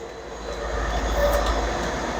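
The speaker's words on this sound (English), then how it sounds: "here comes our train" A train rolls into Norwich Station, a steady low rumble of wheels and rail noise close by with a faint squeal over it, building slightly as it arrives.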